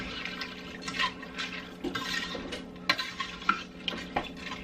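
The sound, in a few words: stirring macaroni into cheeseburger casserole pot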